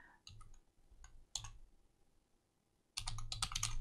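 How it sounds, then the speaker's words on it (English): Keyboard typing in GIMP 2.10 on a computer, with short bursts of clicky keystrokes, a pause in the middle, then a denser, louder run of keys at the end. "I'm just going to type in"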